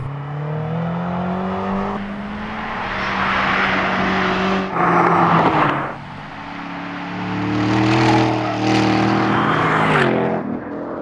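A Chevrolet Camaro ZL1 Convertible and BMW M6 Convertible roar past on Gingerman Raceway during a track day in 100-degree heat, engines revving and fading as they lap, with overlapping loud passes throughout.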